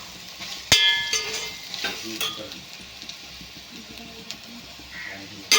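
Soya chunks (meal maker) frying in oil in a pan give a light, continuous sizzle, broken by sharp metallic clinks and scraping of a utensil against the pan.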